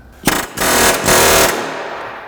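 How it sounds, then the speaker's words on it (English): Pneumatic air hammer rattling against a front lower control arm bolt on a 1998 Mazda 626, a loud close burst of rapid hammering in two stretches, tailing off at the end. "I'm gonna try this air hammer to see if I can persuade it to leave."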